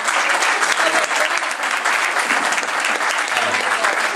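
An audience at a comedy evening in Camerota bursts into loud, sustained applause, a dense unbroken wash of clapping that stays steady throughout.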